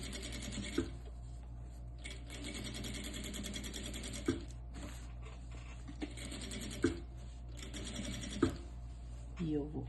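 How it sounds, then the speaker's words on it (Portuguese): Sewing machine stitching cloth diaper fabric toward a chalk mark, a steady mechanical running hum with brief clicks and knocks as the fabric is pushed along, sitting close and fairly quiet throughout. "E eu vou costurar até a minha marcação que eu fiz com o giz."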